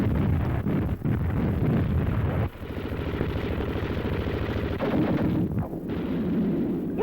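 Rumbling bursts of heavy wartime gunfire, explosions and flamethrowers crackle and boom in rapid succession, dense and continuous, with a brief lull midway.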